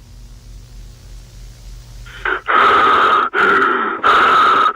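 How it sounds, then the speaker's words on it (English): Heavy, rasping breaths from a horror video game, starting after a quiet stretch and then coming as loud, close, drawn-out gasps in three long bursts. "Why are you breathing like this?"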